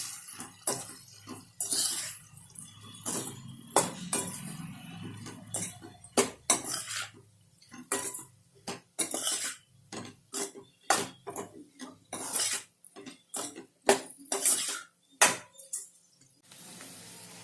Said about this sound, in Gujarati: બધું મિક્સ કરી લઈશું.